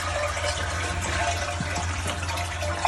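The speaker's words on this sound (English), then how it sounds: "Drain the water." Water drains from a running toilet's tank after the supply is shut off at the angle stop, a steady rushing, gurgling wash that continues at moderate loudness with no talking.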